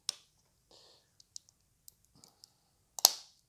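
Plastic parts from a Perfect Grade Aile Strike Gundam model kit clicking together: a few faint scattered ticks and small rustles, ending in one sharper, louder snap near the close.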